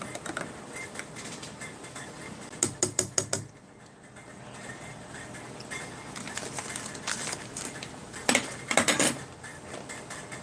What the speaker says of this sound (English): That is cappuccino all stirred up.